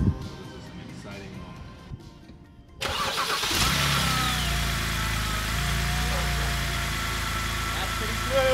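BMW N52 straight-six firing up after a fresh valve cover install: quiet work sounds, then a sudden start and a steady, smooth, close idle that runs on alone.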